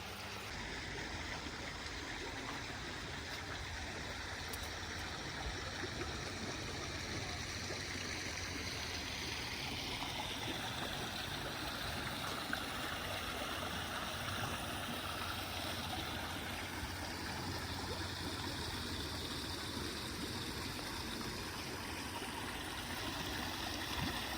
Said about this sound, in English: open one of these valves slowly, so obviously it lets the water in there